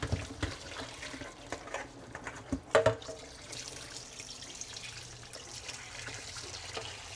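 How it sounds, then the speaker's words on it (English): Hot tap water runs into a cooking pot with dough stuck in it, a steady close splashing stream with scattered clunks and drips. "Gotta put hot water in it again."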